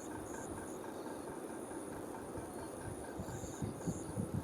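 A moving passenger train gives a steady, dense rumble of wheels on rails, with a faint rhythmic throb running under the continuous noise and no talking.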